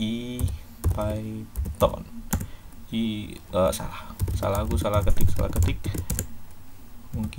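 Keys clatter on a computer keyboard in quick bursts while someone talks almost continuously over the typing during a Python and Jupyter Notebook installation.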